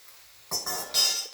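A tortilla dropped into hot grease in a pan, two bursts of bright sizzling crackle that start abruptly and hiss steadily, close and moderately loud.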